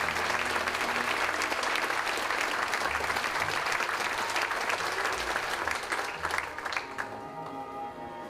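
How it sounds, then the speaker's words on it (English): A large crowd applauds steadily, dense clapping filling the space, then thinning and tapering off toward the end. "Let's give them a round of applause."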